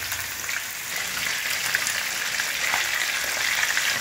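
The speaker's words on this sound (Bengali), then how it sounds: "দেখুন মাছের এক পিঠ ভাজা হয়ে গেছে।" Fish sizzles in a pan with one side turning crisp. The hiss is dense, continuous and close, like light rain, with faint crackles running through it.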